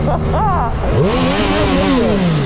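A Triumph Street Triple S A2 motorcycle's three-cylinder engine revs loud and close, its pitch sweeping up and falling back in repeated surges over a constant rumble.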